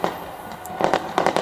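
New Year fireworks bursting over Auckland's Sky Tower: a hiss of distant crackle gives way to several sharp, mid-distance bangs and pops in two quick pairs near the end, with no voices.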